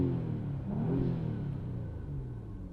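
Audi B5 S4 engine with a new budget intake being revved, a smooth rising and falling rumble with some intake whoosh, moderately loud and close, with no talk over it.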